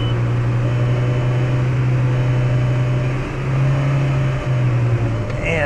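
A 2003 Jetta engine revs hard in gear with the drive wheels off the ground and no load on the driveline, a loud, steady, high-revving drone that dips briefly and then climbs again.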